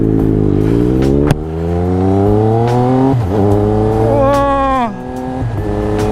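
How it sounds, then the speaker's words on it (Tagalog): Triumph Speed Triple RS motorcycle engine revving up hard, pitch climbing steadily through the rev range, dropping briefly, then rising again before easing off, loud and close. "Na-miss ko talaga yung sound ng aking motor."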